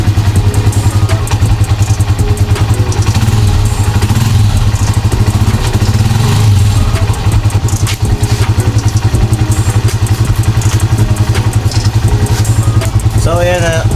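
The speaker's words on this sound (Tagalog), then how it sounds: "So ayan sumiran ko na yung engine at nag-timer pa nga ako." A car engine idles during an engine flush, with a loud, steady low rumble and fine rapid clatter running continuously throughout, recorded up close.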